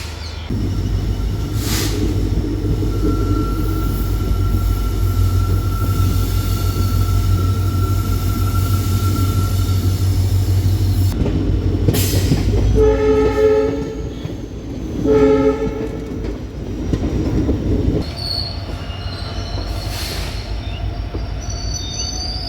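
A loud train horn blares in several long blasts over the deep rumble and squealing wheels of a South Indian passenger train beginning to roll from a station, with no talking.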